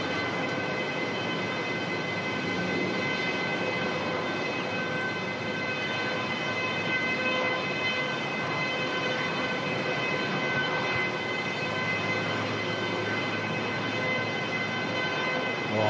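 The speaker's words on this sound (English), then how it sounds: "Sounds like a siren. It's the air starter." An aircraft air starter unit at Melbourne Airport gives a loud, steady high-pitched whine that drones on without a break, like a siren, with a dense rushing roar underneath.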